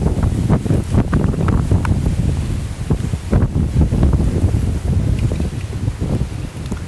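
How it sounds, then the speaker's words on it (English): Cold wind gusts buffet the microphone outdoors beside the Catawba River at Landsford Canal State Park, a loud, continuous roar with uneven surges and no talking. "the wind's blowing and it's cold"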